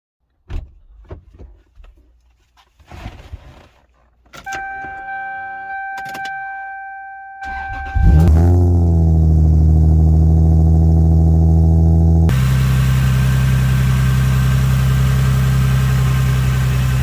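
An old car left abandoned for years cranks with a whirring starter after some clicks and clunks, then fires up and runs at a loud, smooth, steady idle close by.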